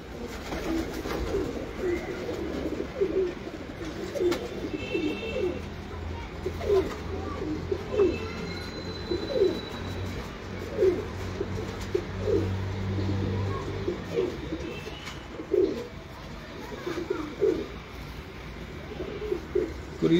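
Home loft pigeons cooing steadily in soft repeated low phrases, close and moderately loud, with faint chirps and background hum.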